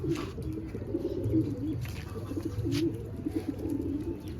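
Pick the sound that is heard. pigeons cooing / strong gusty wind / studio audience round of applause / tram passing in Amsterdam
pigeons cooing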